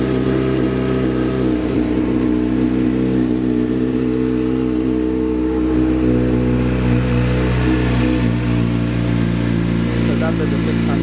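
A Kawasaki Ninja H2 motorcycle engine running close by, a loud, steady, throbbing drone with a slight rise in pitch; a person talks over it.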